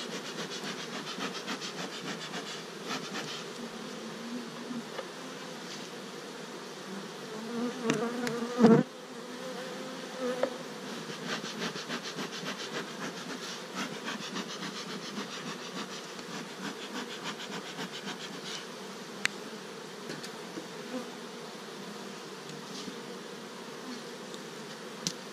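Honeybees hum steadily at an opened beehive during a full brood removal, a dense close buzz that holds throughout with a few brief bumps and knocks.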